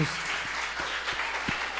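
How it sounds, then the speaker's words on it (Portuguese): Audience applause for all the participants at a school presentation, steady clapping from many hands across the whole moment, with a few sharper individual claps and light background voices. "uma salva de palmas para todos"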